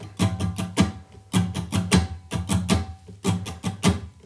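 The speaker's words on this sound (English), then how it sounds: "the strumming pattern is gonna sound like this." Acoustic guitar strums a down-up pattern in G at about 80 BPM in 4/4, with crisp, evenly spaced rhythmic strokes grouped into short bursts at moderate volume.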